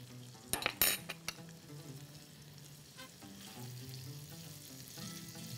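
Small pieces of garlic and finely chopped red pepper sizzle quietly in a pan, with a few clinks of a utensil at first and then a soft, steady frying hiss.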